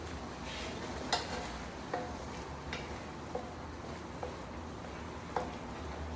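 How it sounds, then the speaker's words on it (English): A low, steady sizzle of beef sirloin mix frying in a pan, with occasional soft clicks and taps of a utensil; quiet and close. "Okay, so this is frying. This is heating up."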